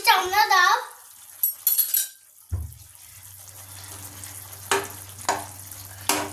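Fried rohu fish pieces go into a pan of simmering Bengali fish curry masala, setting off a low steady sizzle with a few clinks and stirring knocks, preceded by a brief burst of speech and running water.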